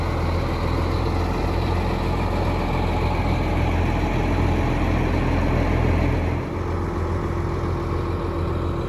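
A Farmall F14 tractor engine idles at steady low rumble, loud and continuous, with a slight drop in level near the end.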